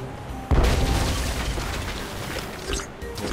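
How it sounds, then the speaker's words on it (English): A ship's cannon fires once in the adventure game Tales of Monkey Island, a sudden loud boom trailing into a rumbling decay. "Fire the cannon."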